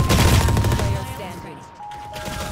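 Rapid automatic gunfire from the Valorant video game, a dense burst of shots up front that thins out over a couple of seconds, with game sounds and a faint voice underneath.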